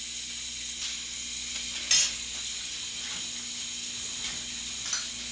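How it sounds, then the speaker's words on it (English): Cook-up rice with okra and spinach being stirred in a pot, giving a steady sizzling hiss with a brief scrape of the spoon partway through and lighter scrapes later. "If you stir, you'll see all your okras and your spinach into your rice there."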